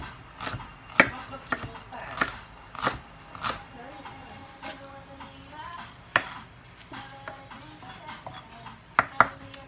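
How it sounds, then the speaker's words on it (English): Onions being chopped with a freshly sharpened knife in a home kitchen, a rapid, uneven run of sharp blade taps on a cutting board, near and clear, with brief pauses between bursts. "So I was chopping onions."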